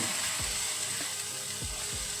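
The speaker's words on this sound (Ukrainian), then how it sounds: "Смажимо на вогні вище середнього приблизно 7 хвилин." Sliced mushrooms and peppers sizzle steadily in a frying pan over medium-high heat, a continuous close hiss with a few soft stirring scrapes and clicks.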